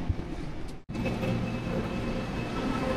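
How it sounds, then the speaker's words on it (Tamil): A train in Seoul, Korea gives a steady, loud, low rumble that cuts out for a split second and then resumes, continuous and close. "இதான் இவங்க ட்ரெயின் கைஸ் பார்த்துக்கோங்க."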